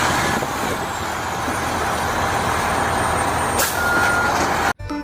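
A toy fire truck gives off a loud, steady engine-like rumble and hiss for about five seconds, then cuts off sharply near the end.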